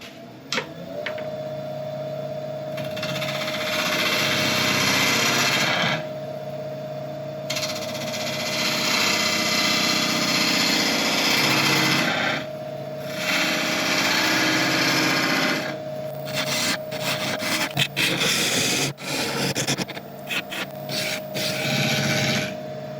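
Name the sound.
wood lathe turning a burl bowl, cutting a chamfer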